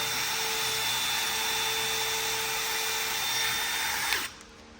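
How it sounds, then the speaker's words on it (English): A power drill cleaning heavy carbon buildup off an LS cylinder head whines steadily at high speed, grinding continuously before abruptly spinning down and stopping near the end. "let me turn this drill on"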